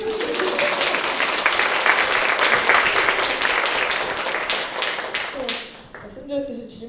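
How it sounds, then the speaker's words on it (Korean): Audience applause at a Korean book concert Q&A, dense steady clapping from a crowd that fades out near the end, with a voice starting to speak underneath as it dies down. "두 분께 박수를"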